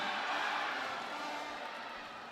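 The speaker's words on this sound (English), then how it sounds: "we have a very noisy crowd here at the Congressman June Dueñas Gym in Signal Village" Noisy basketball crowd at the Congressman June Dueñas Gym in Signal Village during a league finals game, a steady roaring wash of cheering voices with horns and drums blended in, sustained and slowly easing.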